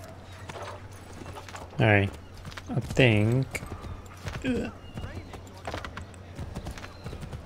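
Horse hooves clatter in a steady galloping rhythm in Assassin's Creed III Remastered, with a couple of loud whinnies rising above them. A person talks over the game sound.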